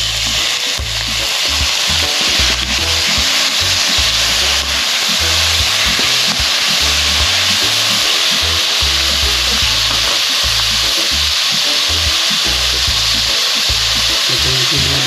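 Onions and other ingredients for pancit canton guisado fry in a pan, giving a loud, close, continuous sizzle with stirring throughout and no talking.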